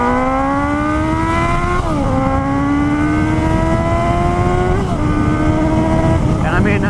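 A 2018 Suzuki GSX-S 750 motorcycle accelerating hard with traction control off, engine note climbing steadily through the gears with two brief dips at shifts, loud and close, wind rush underneath and no talking.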